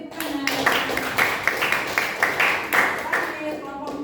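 A classroom group of students claps for a presenting team during an Islamic studies lesson, scattered moderate claps over a steady background murmur of voices.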